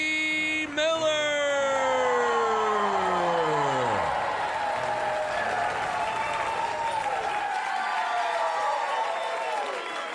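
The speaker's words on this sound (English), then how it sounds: "And that cheer was accepted, and I'm grateful. But it was way too much." A Gotham Comedy Live studio audience cheers and applauds a comedian with a loud, sustained roar lasting throughout, while a sweeping, falling musical tone plays over the start and voices carry through the noise.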